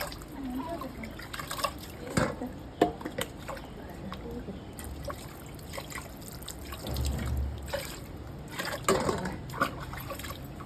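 Water for a baby's first bath, heard as soft irregular splashes, drips and trickles close by, with quiet voices murmuring in the background.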